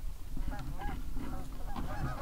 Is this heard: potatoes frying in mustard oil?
no